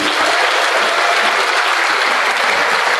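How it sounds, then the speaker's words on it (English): A large audience at a first-year university orientation applauds volunteers, the clapping loud, dense and sustained throughout with no break. "So a big round of applause for them."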